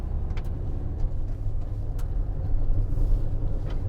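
A 2019 Citroen Relay 2.2 BlueHDi L2 H2 van on the move, a steady low engine and road rumble that swells slightly toward the end, with faint clicks and rattles above it and no talk.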